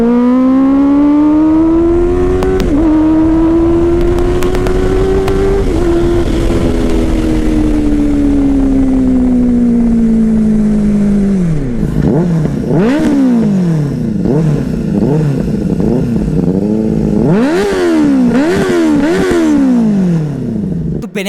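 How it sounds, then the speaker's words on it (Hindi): A Benelli 600cc inline four-cylinder motorcycle exhaust, loud and close, holding a steady drone before a series of sharp rev blips rising and falling, with a deep roar under a smooth upper note. "अब सुनते हैं इसके 600 सीसी इनलाइन 4 सिलेंडर की एग्जॉस्ट नोट को"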